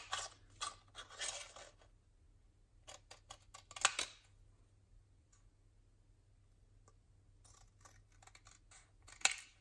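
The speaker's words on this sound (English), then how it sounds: "we're going to try and cut the same width all the way around" Scissors snip through Kraft card at an even width for a lace wedding invitation holder, a few quiet clusters of crisp cuts with pauses between them.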